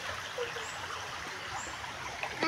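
Water flows steadily along a shallow stream, a soft, continuous trickling murmur with no voices.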